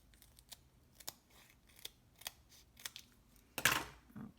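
Scissors snip through a row of cards, giving a series of sharp, close cuts at an uneven pace, followed by a louder rustle of card stock near the end, with no talking.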